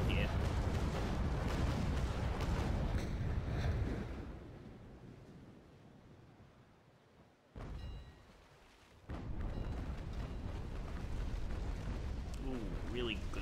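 Naval combat video game cannon fire: heavy booming salvos rumble loudly, then fade into a quieter stretch before another sharp blast and renewed roaring fire.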